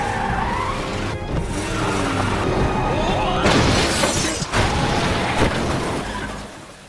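Car chase ending with a car braking hard to block another car: loud continuous engine and tire noise with skidding, a crunching impact and shattering sounds midway, under a dense action soundtrack.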